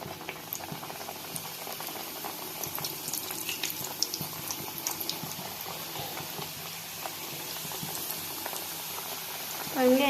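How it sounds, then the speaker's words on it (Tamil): Badam puri dough pieces fry in hot oil with a steady bubbling hiss and light patter, fairly close and even throughout, ending with a short louder knock. "இப்போ நம்ம எண்ணெயில் ஒன்று ஒன்றா விட்டுக்கலாம்."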